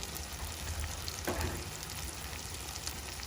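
Coriander, chilli and turmeric powders with salt sautéing in hot oil with softened tomatoes for a South Indian bitter gourd curry, a soft steady sizzle with a brief stir-like rustle partway through, no talking.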